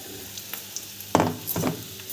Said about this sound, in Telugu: ఇప్పుడు మిక్సీ పట్టుకున్న ఆ మిశ్రమాన్ని మొత్తం దీంట్లోకి వేసేద్దాం.